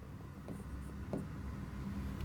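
Chalk or marker writing a matrix on a board in a classroom, faint short scratchy strokes over a steady background hum, a few brief taps and squeaks.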